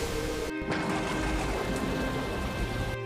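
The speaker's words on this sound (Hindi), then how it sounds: "देखते ही देखते भयंकर आंधी तूफान शुरू हो गया" Heavy rain pours steadily through a fierce windstorm in an animated story, a dense constant hiss with a sustained tonal music bed under it; thunder is not distinct.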